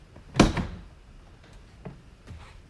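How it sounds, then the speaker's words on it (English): A car's driver-side door is opened once, giving a single loud latch clunk and thud near the start, followed by a few fainter clicks and rustles. "as I open the driver's door."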